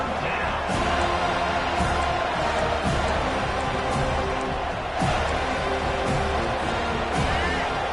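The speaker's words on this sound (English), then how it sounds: "Decibels rising as the crowd gets behind this defense on 3rd down" Packed college football stadium roaring as fans back the defense on third down, a continuous loud wash of cheering and noise with scattered sharp bangs and shouts, sustained for several seconds.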